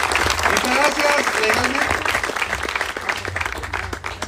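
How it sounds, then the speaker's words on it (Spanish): Loud crowd applause at a special assembly in Ipala, a dense continuous roar of clapping from many hands that stays strong throughout, with some voices mixed in underneath. "Yo quiero que le brindemos más fuerte los aplausos, que se escuche ese cariño de Ipala en esta asamblea especial"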